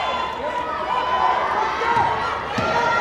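A basketball crowd cheers and roars steadily at a women's college game, Jefferson College Lady Vikings against Mineral Area Cardinals, a continuous dense wash of voices with no break, squeaks and thuds faint underneath.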